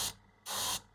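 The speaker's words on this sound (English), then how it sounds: "by the time I can see that I'm spraying, I will have oversprayed" Two short hissing bursts of spray from a can as a pearlescent finish is applied to a prop tablet, the second burst longer, close and alone.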